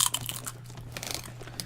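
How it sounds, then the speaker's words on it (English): Crunchy food being chewed close up, a run of irregular crisp crunches and smacking bites over a low steady hum, with no talk. "hear that crunch, everybody?"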